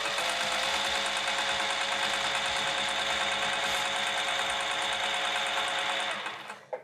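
A sewing machine stitches the reinforced corner of a piped bag, running in a loud, steady, high whir while briefly reversing and going forward, then stopping abruptly near the end.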